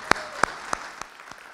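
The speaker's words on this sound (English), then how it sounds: "Let's just have another round of applause for Dr." A few scattered, separate hand claps from a small lecture audience after a talk, about five distinct claps at a slow, even rhythm, fading toward the end.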